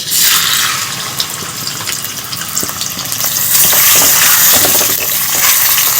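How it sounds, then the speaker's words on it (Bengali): Fish heads fry in hot mustard oil in a kadai for a Bengali moong dal, a loud, close, continuous hiss and crackle that swells midway, with no one speaking. "এবারে আমি মাথাটা ভেজে নেব"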